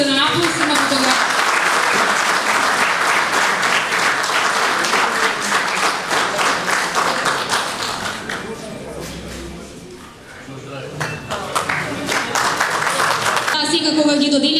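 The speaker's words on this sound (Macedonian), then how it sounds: "Да ги поздравиме со еден аплауз на фотографија" Applause for award winners at a formal municipal council session, sustained clapping from the assembled room that briefly thins and dips before swelling again, with voices mixed into the crowd.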